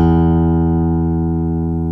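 A single sustained note on a Chapman Stick rings out loud and steady, its overtone harmonic blended into the tone and slowly fading over two seconds with no voices.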